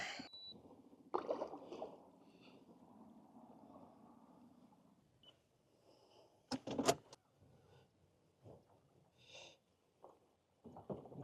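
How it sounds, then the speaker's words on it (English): A kayak rudder is dropped at a boat ramp before a fishing trip, with faint mechanical rustles and a short whirring stretch, then a sharp clunk and scattered quiet knocks and taps. "Time to drop the rudder, brother."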